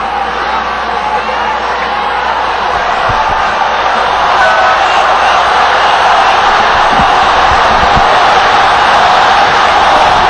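Basketball arena crowd during a quarterfinal Game 5 between BGK and TNT, a steady loud roar of cheering and voices filling the space early in the game, broad and continuous without letup.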